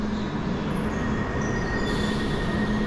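A London Underground Piccadilly Line train braking to a stop, loud and close, with a sustained metallic wheel squeal riding over a steady rumble of the cars for the whole stretch.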